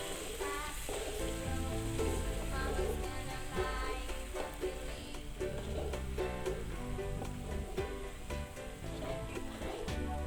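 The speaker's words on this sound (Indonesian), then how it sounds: "Lalu kita siapkan bawang merah, kita tumis sampai harum" Shallots sauté in a pan for beef rendang, giving a continuous crackling sizzle that pops irregularly and stays fairly quiet, with no talking.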